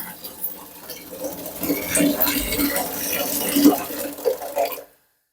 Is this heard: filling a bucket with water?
yes